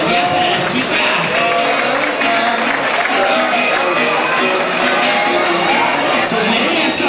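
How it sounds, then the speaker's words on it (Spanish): Crowd at a disco nightclub during a queen pageant cheering, whooping and applauding loudly and continuously, a dense roar of voices and claps filling the room close by. "A ver el aplauso de la gente de Piaf para las chicas."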